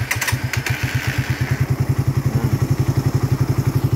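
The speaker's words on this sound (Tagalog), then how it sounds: "motor ni Pops, tapos sinalpakan natin ng 28mm na carb" A motorcycle engine with a 28mm Keihin carburetor and 50,000 km on the odometer idles with a steady, rhythmic putter, close by, with a few clattering knocks at the start.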